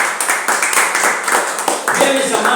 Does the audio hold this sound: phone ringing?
no